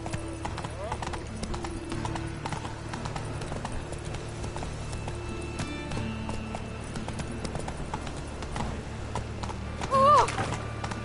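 Horse hooves clip-clopping at a gallop in the video game The Witcher 3, a steady rhythmic beat under game music and ambience, with a brief louder moment near the end.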